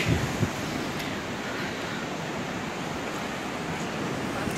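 Sea waves break and wash below a high deck at Itapuã, a steady hissing surge of water with soft wind, heard at moderate distance with no voices.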